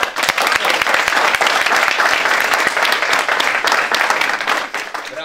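Team applause and clapping in a locker room after congratulations following a Wisła Płock versus Motor Lublin football match, dense and loud, steady throughout with overlapping hand claps.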